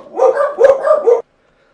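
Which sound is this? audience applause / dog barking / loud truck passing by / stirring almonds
dog barking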